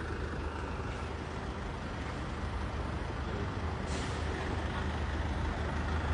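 A London number 3 bus on Whitehall with a steady, loud engine rumble and traffic noise, and a short hiss of its air brake partway through.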